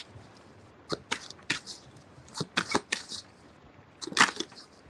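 Tarot cards being shuffled in short, separate crisp bursts, some doubled, spaced irregularly and fairly close, with quiet pauses between them.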